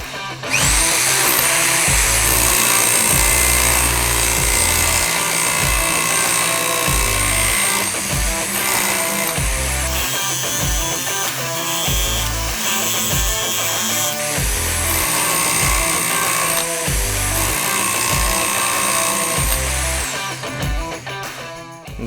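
A Tex.AC barrel-type rotary hammer drill runs loudly and almost continuously, its hammering pulse rattling steadily with brief dips in pitch and load.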